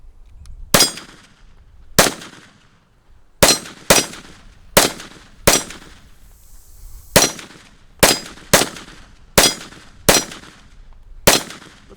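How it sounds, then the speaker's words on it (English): A Kel Tec PMR-30 pistol fires about a dozen sharp, loud shots at uneven intervals, each crack ringing briefly before fading, with no talking between them. "Kel Tec PMR-30, first shots"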